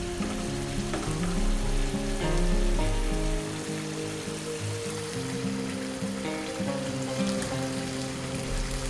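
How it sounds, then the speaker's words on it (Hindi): Beef pasanday cutlets stir-fry in a pan with a loud, continuous sizzle, joined by occasional scrapes of stirring and a low rumble that fades partway through. "अब स्टिर फ्राई करते हुए हम चेक कर लेते हैं कि पसंदे गले हैं कि नहीं।"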